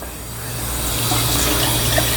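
Water pours steadily into a cooking pot for crab rasam, a continuous close rushing splash that holds for a couple of seconds without talk.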